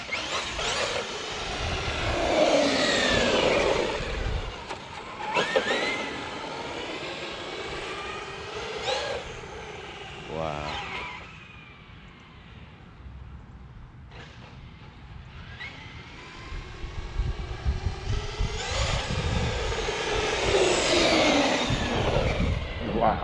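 A Traxxas X-Maxx 8S RC truck with a belt-drive WideMaxx kit revs its electric motor in short throttle blips, each a rising and falling high-pitched whine, loud and close, with quieter gaps between.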